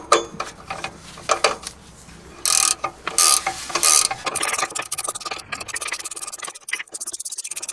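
A ratchet clicks in quick bursts while tightening the sway bar bushing clamps on an 08-17 Ford Expedition, with ratcheting and metallic mechanism noises close to the microphone and no talk.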